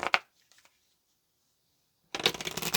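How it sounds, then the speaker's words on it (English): Tarot cards being shuffled during a reading: a short riffle at the start, a few faint taps, then a quiet pause before a longer, louder bout of shuffling close by. "I'm going to pull some more cards here and clarify."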